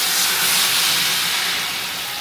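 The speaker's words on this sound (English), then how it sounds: "I'm going to deglaze my pan" Liquid hits a hot pan during deglazing and sizzles in a loud, continuous hiss that holds steady and then eases slightly, with no talk.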